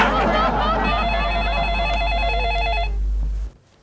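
A telephone rings with a loud trilling electronic bell for a few seconds over a constant low hum and background chatter, then cuts off abruptly.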